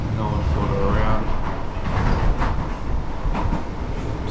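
Steady, loud rumble of a train carriage in motion between Claisebrook and Perth, with continuous rolling noise and faint rattles throughout.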